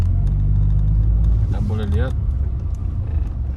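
City traffic on a busy road in Ipoh rumbles steadily as cars drive past close by, a low engine drone continuing throughout, with a person speaking briefly over it midway.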